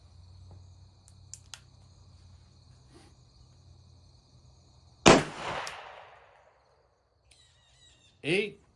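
A single sharp revolver shot firing a .38 Special reload with a Hornady 158-grain XTP bullet from a Manurhin MR, loud and sudden with a short decaying echo, set against quiet outdoor crickets, followed by a brief voice.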